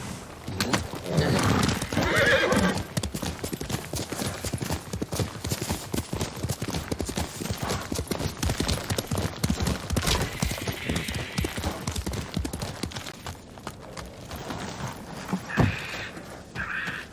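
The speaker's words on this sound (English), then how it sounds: "Horse!" Horse galloping and neighing in the video game Ghost of Tsushima, set on Iki Island: a loud, continuous rhythmic pounding of hooves with several whinnies rising above it, heard close and without talk.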